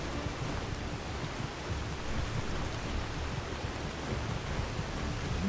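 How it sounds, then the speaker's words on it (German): Heavy rain in the video game Skyrim pours as a dense, even hiss that stays loud and unbroken throughout. "Weil der Regen so extrem laut ist."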